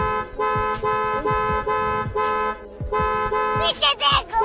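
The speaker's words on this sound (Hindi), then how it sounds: "गाड़ी का हॉर्न बराबर बज रहा है" A car horn honks over and over in short, sharp toots with a steady rhythm, while other sounds move around it, ending in a busier burst.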